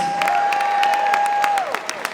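Guests at a walima wedding reception at a manor venue clap loudly and continuously with a few cheers, while a sustained whistle-like tone rings over the start and then fades, followed by scattered sharp claps tailing off.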